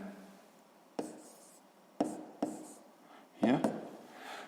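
A pen writing in a notebook during a sixth-grade maths exercise, with soft scratchy strokes and several sharp taps as the pen touches down, quiet and close beneath a speaking voice.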